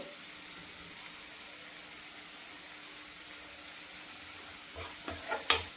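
Tomatoes with salt in a pan, quietly sizzling at first, then three or four louder scraping stirs close by near the end.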